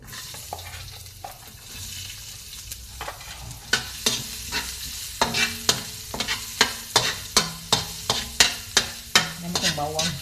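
Garlic sizzles in hot oil in a pan, a soft steady frying hiss at first, then loud rhythmic scraping and stirring strokes of a spatula dominate the second half, close up and without talk.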